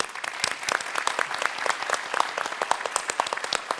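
Conference audience at an OpenStack cloud infrastructure panel giving a round of applause, steady crisp clapping from a modest crowd, close and continuous throughout.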